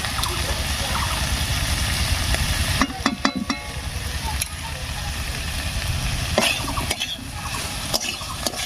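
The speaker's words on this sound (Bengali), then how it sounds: "এবার এর মধ্যে দেবো বাটা মশলাটা" Ground spice paste going into partly steamed vegetables for a Bengali shukto, a loud continuous sizzle with a few clattering spoon knocks and stirring sounds in the middle and near the end.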